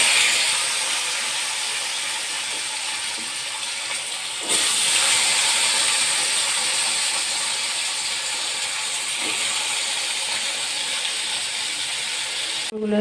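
Potatoes frying in a pan give off a steady, loud sizzling hiss that keeps going throughout and swells slightly partway through.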